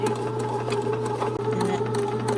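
A bread machine with two paddles kneads whole wheat and white flour dough, giving a steady motor hum with a constant low drone and rhythmic mechanical whir, close and continuous with no talking.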